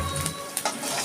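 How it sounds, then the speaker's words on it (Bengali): Finely chopped ginger hitting hot refined oil for a lentil dal with onion, giving a brief steady sizzle with a couple of sharp crackles and spits, close and fairly quiet. "তেলটা গরম হয়ে গেছে, আমি প্রথমে দিয়ে দিচ্ছি আদা"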